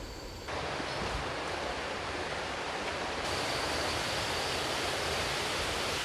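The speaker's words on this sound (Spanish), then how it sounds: "Acá tenemos además una cascada." A 10-metre waterfall in the Amazon jungle roars steadily nearby, a dense, unbroken wash of falling water with no other sounds.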